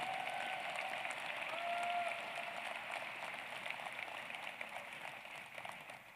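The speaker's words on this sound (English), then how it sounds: "Let's give a round of applause for all of our Doctor of Philosophy graduates." A seated audience at a Rutgers School of Public Health convocation applauds its Doctor of Philosophy graduates, a dense, steady wash of clapping that slowly thins and fades toward the end.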